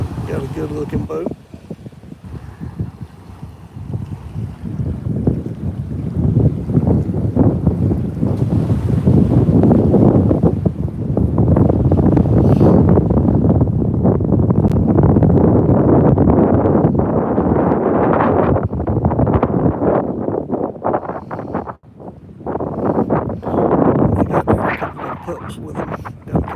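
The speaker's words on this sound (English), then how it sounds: "Let's watch this boat come in." A Stingray motorboat approaches through wind-buffeted open air, its engine and hull wash building into a steady loud rumble that holds for a long stretch, then briefly dips and returns, with voices talking over it.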